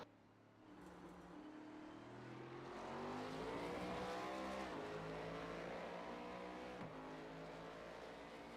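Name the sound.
race vehicle driving on the Circuit of the Americas track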